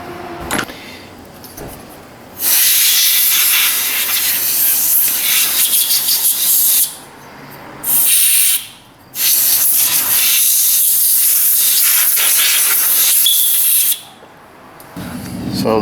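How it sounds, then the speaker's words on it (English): A compressed-air blow nozzle blasts debris off a threaded part in a workshop, loud close hissing bursts of several seconds each separated by short pauses. "Get a blow nozzle and kind of blast this stuff off."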